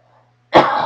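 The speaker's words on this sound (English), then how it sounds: "Sorry, I've been coughing so much." A single short, harsh cough from a person recovering from food poisoning, sudden and close after near silence.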